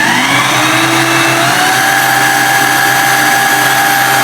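A new Scheppach DP60 bench drill press runs loud and close with a steady motor whine and hum, rising slightly in pitch as it settles to a constant speed, and no voices are heard over it.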